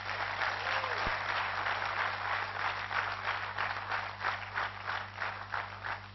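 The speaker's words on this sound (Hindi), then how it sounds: "छत्तीसगढ़ वालों के लिए एक बार जोरदार तालियां हो जाए।" A crowd at a launch event applauds loudly for the Chhattisgarh group, dense clapping held at a steady level from start to finish, with a low hum running underneath.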